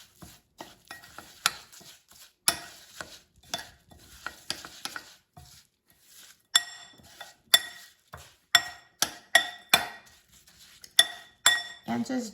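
Maple syrup stirred into an apple crisp crumble topping with a spoon in a glass bowl, giving repeated sharp clinks and scrapes in an uneven rhythm, close and fairly clear, with no talking.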